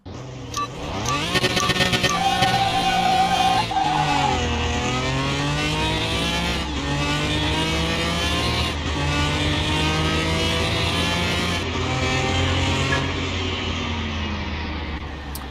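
A standard Ferrari in the PC game Car Mechanic Simulator 21 revs its engine loudly and steadily, climbing and dropping in pitch through repeated gear-like sweeps. The roar runs continuously with no talk over it.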